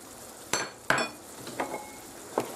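Spaghetti with prawns, black pepper and parsley stirred in a pan, giving a few sharp scraping clinks of utensil against metal spaced over a couple of seconds, close and moderately loud with a faint sizzle between.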